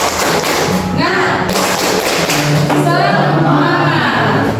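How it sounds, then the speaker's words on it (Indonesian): A class joins in rhythmic 'tepuk semangat' group clapping during a mathematics lesson, loud patterned claps and thumps in a steady beat, with a short pause in the middle before the pattern resumes. "Ulangi sekali lagi, tepuk semangat."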